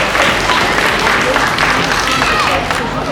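A school audience at a student event breaks into loud, sustained applause, dense clapping filling the whole stretch with crowd noise underneath.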